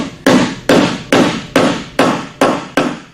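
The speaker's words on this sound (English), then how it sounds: "Pound it in so that seat's nice and tight." Hammer pounding a T-screw seat into a travel frame lands seven sharp, evenly spaced blows, loud and close, each ringing briefly before the next strike.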